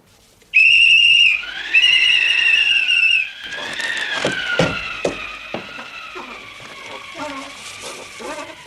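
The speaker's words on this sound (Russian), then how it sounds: "Кто свистел? Я!" A shrill whistle blown twice in sharp bursts, then a wavering whistled tone continuing over clattering and a voice in the background.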